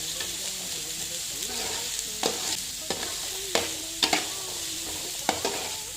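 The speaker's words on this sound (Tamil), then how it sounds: "இந்த மாதிரி வெங்காயம் வதங்கினதும் கேரட் பீட் சாப்பர் பண்ணி வச்சது இதில் போட்டுக்கலாம்." Carrot and beet stir-fried with sautéed onions in a pan, a steady sizzle broken by several sharp scraping stirs of the spoon, close and fairly loud with no talk.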